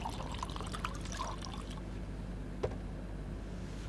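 Water is poured for a drink, giving a faint continuous trickling stream that ends with a small splash, quiet against a dull background hum.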